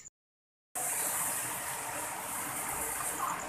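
Water sprays steadily onto a lovebird being bathed at night, a continuous close hiss that starts abruptly after a moment of silence and runs on evenly.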